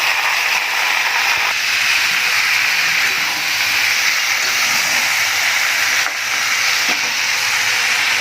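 Spice paste fries with potatoes in a hot pan, giving a loud, steady sizzling hiss that runs unbroken and close, with faint scrapes of stirring and no voices.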